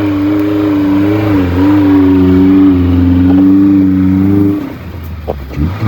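A Maruti Gypsy on Yokohama tyres in Manali snow revs hard and close, its engine droning loudly and steadily for several seconds before dropping off to an idle with crunching sounds.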